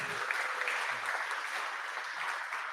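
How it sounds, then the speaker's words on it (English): Audience applause fills a meetup room after a presentation, a steady patter of clapping lasting a few seconds at moderate level with no talking over it. "Round of applause for Mike."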